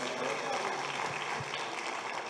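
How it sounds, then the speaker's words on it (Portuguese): Church congregation applauding for Jesus during a worship service, a dense, continuous patter of clapping hands from many people, moderately loud and sustained throughout. "Vamos dar uma salva de palmas para Jesus."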